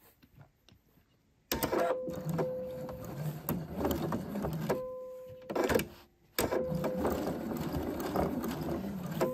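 A sewing machine stitches decorative ribbon trim down the middle of the ribbon with an open-toe presser foot, running in steady mechanical bursts with short pauses between runs and one long continuous run at the end.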